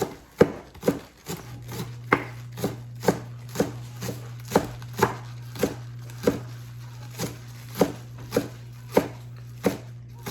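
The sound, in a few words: chopping crappie fish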